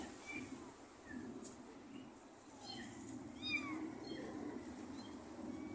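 Abandoned cats meowing outdoors along a busy street: several faint, high meows scattered through the clip, some overlapping, over a steady low hum of traffic and background noise.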